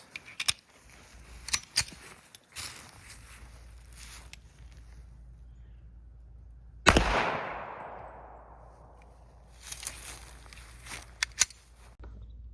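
A Charles Daly 1911 .45 pistol firing ball ammunition at a Level 3A armor plate: one loud close shot with a long ringing decay, surrounded by scattered clicks and handling noises.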